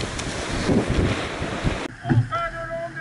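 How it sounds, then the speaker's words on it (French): A boat slides easily across the water under a hot sun, giving a steady close rush of wind and water that drops to a quieter wash partway through, with a brief voice-like tone near the end. "Là, c'est le bateau, il glisse facilement"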